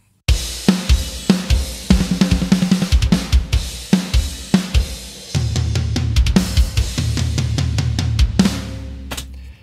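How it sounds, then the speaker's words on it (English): Soloed metal drum kit recording for a mix: fast, hard-hitting kicks, snare and cymbals in a dense, loud pattern that shifts into a heavier, driving section with sustained crashes near the end. "let's have a listen to the drums soloed"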